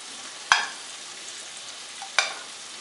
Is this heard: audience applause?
no